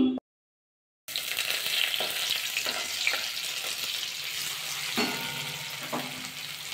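Vegetables fry in melted ghee for vegetable rice, a steady crackling sizzle with a few scraping stirs of a spoon against the pan, following a brief silence at the start; no talking.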